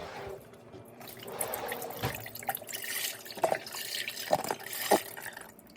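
Bone broth poured from a carton into a soup pot with cream cheese for a keto creamy taco soup, a gurgling, splashing pour with several glugs and drips near at hand, and no talk.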